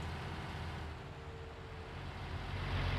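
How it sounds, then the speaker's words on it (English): Cement trucks in Farming Simulator 19 rumble past with a low, steady engine drone that swells slightly louder toward the end, alone without talk. "here comes the lethal cement trucks"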